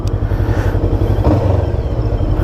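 A Bristol Veloce 500 motorcycle engine runs at a steady idle, a loud, close, continuous low rumble.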